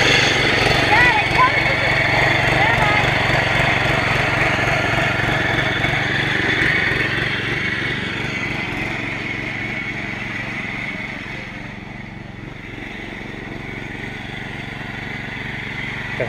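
A gas engine fitted to a Power Wheels ride-on car runs steadily at a buzzing, high-pitched drone, gradually easing slightly in loudness, with voices talking over it.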